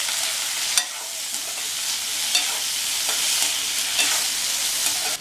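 Vegetables with salt and turmeric are stirred in a hot pan with a bright, constant sizzle. Clear, evenly spaced scrapes of a spoon punctuate the sound every second or so, and there is no talking.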